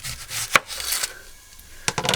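A knife chops the top and bottom off an onion on a cutting board, a few sharp close cuts separated by quieter rustling of the onion skin.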